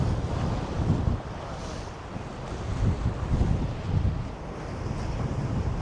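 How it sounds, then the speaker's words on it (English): Wind buffets the microphone beside choppy river water, with a steady rushing roar and the slap of waves throughout, loud and close, with no talk. "The wind is up."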